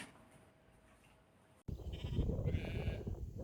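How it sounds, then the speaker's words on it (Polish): Skudde sheep in a village breeding flock in the Table Mountains, bleating among outdoor ambient noise, with a quiet passage followed by louder, closer bleats and rustling activity. "We wsi znajduje się unikatowa hodowla owiec rasy Skudde."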